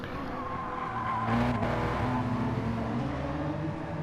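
A car drifts round a corner in a racing video game, its tires squealing over a steady, loud engine roar that holds throughout without a break.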